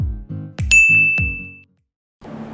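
A bright notification bell ding rings out over a few low thumping hits, the chime ringing on and fading before a short silence and a soft noisy tail.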